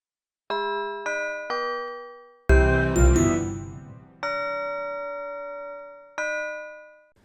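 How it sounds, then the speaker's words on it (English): Deep, resonant bell strikes ring out one after another, each tone sustaining and slowly fading, with a dense cluster of chimes in the middle. "I also want to add like big Christmas bells, like church bells."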